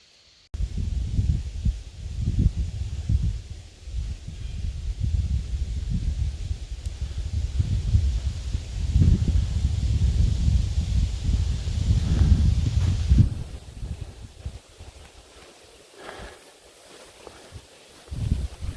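Wind gusting through wet leaves along a misty forest backpacking trail, a broad rushing rustle with rumbling buffets on the microphone, steady for about thirteen seconds then easing to a quieter hush, no voices.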